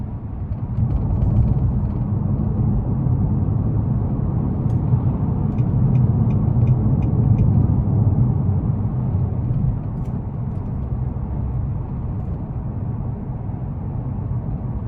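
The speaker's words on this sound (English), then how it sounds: "And these things are fast, and I just love the exhaust note." A 2021 Nissan Maxima SR driving at night, a steady low exhaust drone and road rumble heard from inside the cabin, even and continuous with faint ticking, no talking.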